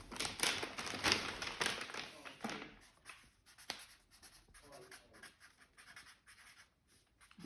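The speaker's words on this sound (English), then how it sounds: "I'll try and write as quickly as I can" A pen scratching across paper as someone writes by hand quickly, bursts of close scratchy strokes, loudest at the start and then lighter, with a few taps.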